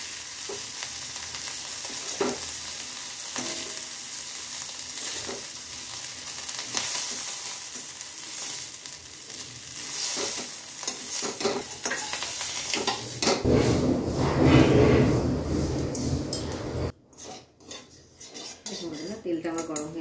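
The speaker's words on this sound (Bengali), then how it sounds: "দেখুন বন্ধুরা আমার চিংড়ি মাছটা খুব ভালোভাবে ভাজা হয়ে গেছে" Shrimp fry in hot oil in a pan with a continuous sizzle, broken by metal utensils clinking and scraping against the pan, building to a louder flurry before a sudden drop and a few final clanks.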